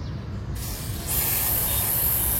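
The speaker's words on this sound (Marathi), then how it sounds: "जेव्हा मी यावरती माझा हा स्प्रे अप्लाय करेल ना" Cleaner sprayed onto a Royal Enfield Classic 350 motorcycle chain, a close, loud aerosol hiss that sputters briefly and then holds as one strong continuous blast.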